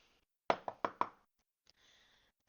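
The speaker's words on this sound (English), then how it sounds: "She knocked on the door." Four sharp knocks on a door in a quick uneven run, close and crisp, followed by faint rustling and a soft final tap.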